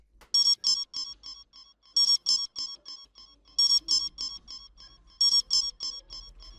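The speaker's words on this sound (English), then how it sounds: "I just spliced in a cell phone sound just to give it a little more ear candy" A cell phone sound sample in an FL Studio beat plays as repeated bursts of bright, rapid electronic chirps, four phrases in a steady rhythmic loop, loud and up front with a faint low pulse beneath.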